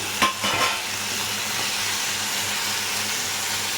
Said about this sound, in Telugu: ఒక 2 మినిట్స్ వరకు ఇలా కలుపుకోవాలి